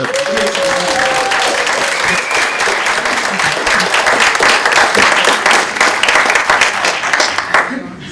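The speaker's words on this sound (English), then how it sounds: "One more round of applause." A loud, dense round of applause from the audience at a student poetry awards night, continuing steadily for several seconds before tapering off at the end, with faint voices mixed in.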